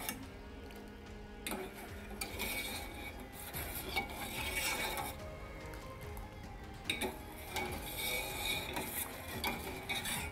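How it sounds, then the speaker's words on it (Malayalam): Sugar syrup being stirred in a pan over a low flame, a spoon scraping and clinking against the metal in a steady, close rhythm, with occasional louder knocks and no talk. "അലിയുന്നത് വരെ ഈ ലോ ഫ്ലെയിമിലിട്ട് നന്നായിട്ടൊന്ന് ഇളക്കി കൊടുക്കണം."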